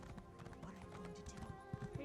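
Horse hooves clip-clop at a walking pace in Elder Scrolls Online, a steady close rhythm of hoofbeats with a brief whinny, heard beneath a voice talking over the game.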